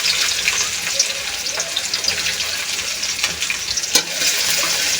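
Spice paste frying in oil with bay leaf, cardamom and cinnamon, a close, continuous crackling sizzle with a few sharper pops and stirring scrapes.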